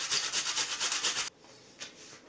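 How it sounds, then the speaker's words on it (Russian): A tomato rubbed against a metal grater makes quick, rhythmic rasping strokes for over a second. It then goes quiet apart from one faint scrape. "возьму помидор, натру его на терке"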